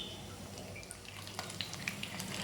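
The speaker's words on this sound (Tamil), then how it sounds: "நம்ம ரெடி பண்ணி வச்சுருக்கிற உருண்டை எடுத்து எண்ணெயில் போட்டு மிதமாக போட்டு பொரிச்சிக்கலாம்." Onion bonda balls deep-fry in hot groundnut oil, a soft, even sizzle close by with faint scattered bubbling pops.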